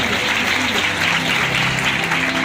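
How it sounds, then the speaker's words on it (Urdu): A church congregation applauds loudly and continuously, dense clapping filling the whole short stretch without a pause. "پھر یسوع کے جلال کے لیے زوردار تالیاں بجائیں"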